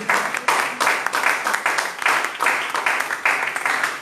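A church audience claps in a lively rhythmic pattern, bursts of many hands pulsing roughly twice a second, close and fairly loud throughout.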